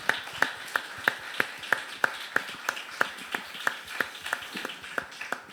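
Church congregation clapping in steady unison, about three claps per second, moderately close and even in rhythm with no talking over it.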